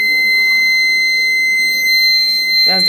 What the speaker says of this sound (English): the buzzer is open, and if there is no flame, the buzzer is off.